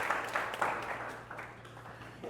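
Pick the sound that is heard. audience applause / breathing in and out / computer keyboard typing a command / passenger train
audience applause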